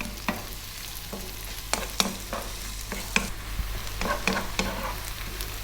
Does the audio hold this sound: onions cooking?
yes